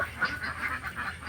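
Kuttanad native ducks at Kuruppanthara jetty in Kerala give a few soft, rhythmic quacks, fairly faint and set back in the scene.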